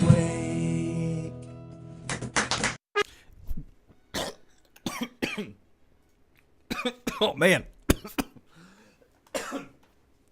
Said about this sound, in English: I can cough all I want to